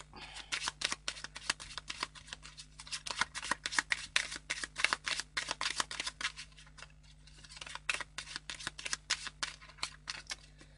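A small Lenormand card deck is handled and shuffled up close, giving a dense run of quick, crisp card flicks and riffles that pause briefly and then resume, with no talking.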